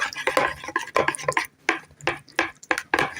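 Eggs and wet cake ingredients whisked together in a bowl for an Oreo dirt cake, giving a quick run of close, clattering scrapes and taps of utensil against bowl, in uneven bursts with short pauses.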